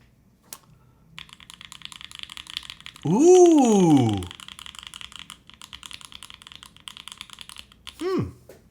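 A burst of rapid mechanical keyboard clacks, then a brief swooping electronic tone, more typing and another short tone; a voice briefly exclaims.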